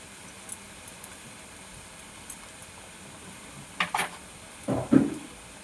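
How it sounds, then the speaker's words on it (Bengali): Taro stolons (kochur loti) fry quietly in a pan with a faint sizzle, broken by a few light clinks and then two louder scraping stirs of a utensil toward the end. "কচুরলতিগুলোকে ভালো করে ভেজে নেব"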